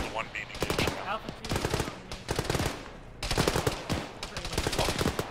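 Rapid gunfire from automatic weapons in the military video game Arma, with loud, dense bursts and fusillades broken by short pauses and repeating across the whole stretch.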